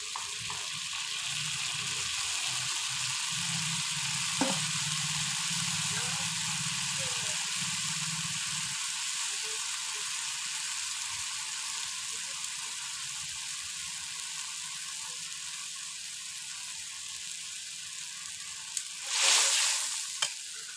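Rupchanda fish curry sizzles in a pan once water goes in, a continuous loud hiss and bubbling that holds steady throughout, with a brief sharper burst near the end.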